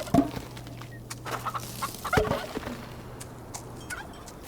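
Farm birds in the game Farm Together gobble and cluck in several quick, close bursts over a low steady hum, with scattered clicks between calls.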